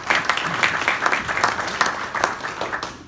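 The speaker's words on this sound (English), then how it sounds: "give yourself a round of applause for that" Club members applaud together at a meeting, a steady dense patter of clapping that holds for about three seconds and stays fairly close and even.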